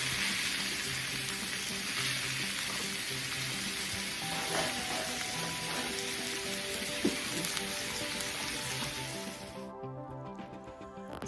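Beef steak searing on a hot cast iron grill stone, a steady close sizzle and crackle of fat that runs continuously without pause.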